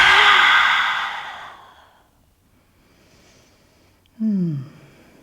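A deep, breathy exhale through a wide-open mouth during yoga breathing, loud at first and fading over about two seconds, followed by quiet and a brief voiced breath near the end.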